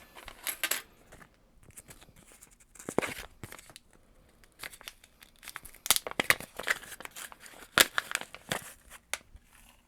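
Small rubber silencing rings are fitted onto HHKB keyboard keycaps by hand, giving close, quiet clusters of plastic clicks, crinkles and light taps in irregular bursts, with brief pauses and no talking.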